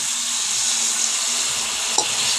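Tamarind liquid poured into hot oil for tamarind rice gives a steady, close frying sizzle with a faint stir and a brief clink near the end, with no voices.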